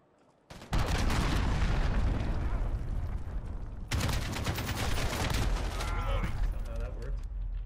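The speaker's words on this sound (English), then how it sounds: "Allied cruise missile away." Allied cruise missile strike in a Modern Warfare beta match, heard as a sudden loud roaring blast that cuts in after a quiet moment and holds as sustained thunderous rumble, with a second surge of explosion midway and no speech over it.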